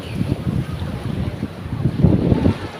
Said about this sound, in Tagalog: Mahangin, masyadong mahangin.